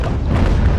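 Enemy cannon fire striking a sailing warship in the naval game Ultimate Admiral: Age of Sail, a single deep, muffled thud of impact lasting under a second with no voices.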